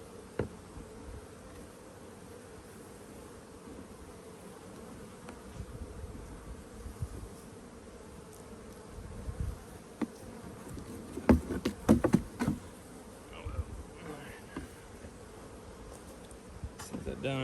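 Honeybees buzz around a lifted hive frame in an apiary while queen cells are being set up, a soft continuous drone with louder swells as bees fly close, and handling noises now and then.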